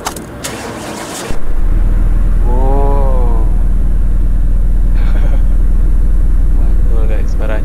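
A Formula E race car in the Car Mechanic Simulator 2018 video game starts up after a brief click, settling into a loud, steady electric-style drone with rising whine tones, with a voice talking faintly over it.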